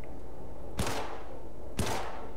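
Two sharp gunshot blasts in Syndicate about a second apart, loud and punchy with a short ringing tail over a steady hum.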